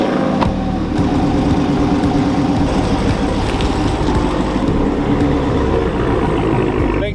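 A Dodge Challenger is driven home, its engine a steady close rumble with road noise throughout, no talk.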